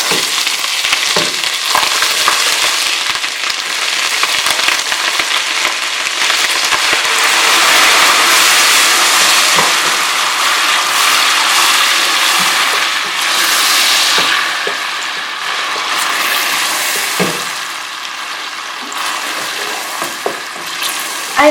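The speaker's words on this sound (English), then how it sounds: "while frying the garlic and ginger paste" Steady, dense sizzling of garlic and ginger paste frying in a hot pan with a little water, continuous and close, with occasional scrapes of stirring.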